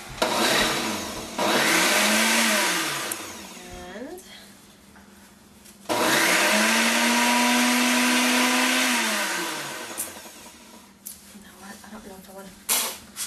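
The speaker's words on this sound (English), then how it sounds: "I didn't want you to have to sit through all that noise of this noisy blender" A loud blender whirs in two long bursts, its motor pitch rising and holding steady before winding down, with brief pauses between runs.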